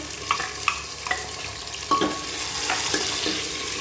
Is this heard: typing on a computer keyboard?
no